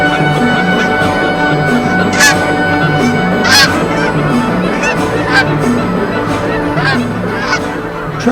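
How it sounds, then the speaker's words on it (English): Large flocks of Canada geese and snow geese, among pintails and mallards, honk continuously over stubble fields in eastern Alberta, a dense steady chorus with louder calls rising out of the mass. "vast flocks of greater and lesser Canada geese, snow geese, pintails, and mallards leave their watery roost"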